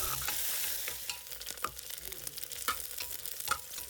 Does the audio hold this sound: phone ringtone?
no